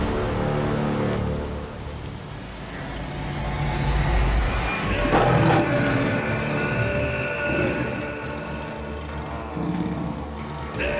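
Rain pours steadily over an action scene in a Hindi-dubbed movie, a dense hiss with a swell of heavier downpour and rumbling around the midpoint, mixed with a low score and no talk.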